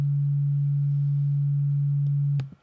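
A synth tone from Massive sounds as a single steady, nearly pure hum made up mostly of its fundamental, held evenly and then quickly fading out near the end, alone and clean.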